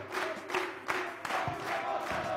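A studio audience at a Shootball game show competition claps and cheers in a steady, dense wash of crowd noise with a few sharper bursts, filling the whole moment without any talk.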